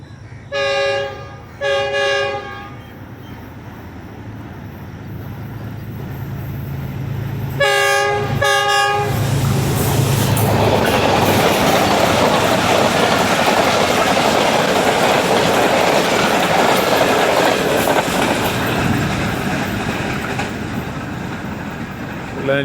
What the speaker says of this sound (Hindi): 105 किलोमीटर फ़ी घंटा की रफ्तार से गुजर गई रेल कार